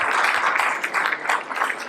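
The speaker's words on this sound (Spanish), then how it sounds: "Les pido también que nos den un fuerte aplauso" An audience at a children's and youth consultation results ceremony gives dense, steady applause, many hands clapping together at close range with no talk over it.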